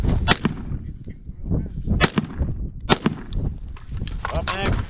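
A Sig Sauer M17 pistol fires three sharp, loud rounds spaced about a second apart on an outdoor range at Piñon Canyon, with brief clatter and voices between the shots.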